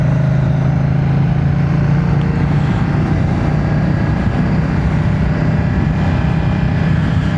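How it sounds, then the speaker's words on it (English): A 2025 Moto Guzzi V100 Mandello S sports tourer's engine runs while the bike is ridden at a spirited pace, a loud, steady low drone with a constant throb and rushing wind, no talk over it. "This engine is just so torquey."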